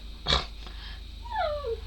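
A dog gives a faint short whimper, then a thin rising-and-falling whine, heard quietly in a room during dollhouse model crafting.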